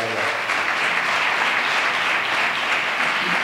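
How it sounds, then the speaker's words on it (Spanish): Audience applause for a queen taking the crown of Rey Gaspar 2020 at a Reyes Magos coronation in Maribáñez: a steady wash of many hands clapping together, constant in loudness from start to finish. "fuerte aplauso para ella."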